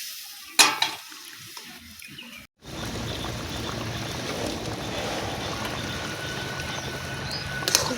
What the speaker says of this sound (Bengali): খুব সুন্দর ফুটে গেছে টকবক করে।